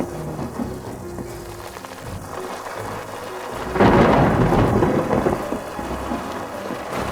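Heavy rain pours steadily while thunder rolls and then cracks loudly midway, a dense close downpour with no voices.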